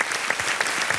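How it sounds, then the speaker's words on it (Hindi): Studio audience applause on a Hindi TV quiz show set, a dense, steady burst of many hands clapping at close range with no voices over it. "एक बार तालियों के साथ फिर से हम अभिनंदन करते हैं डॉक्टर वंदना तनेजा"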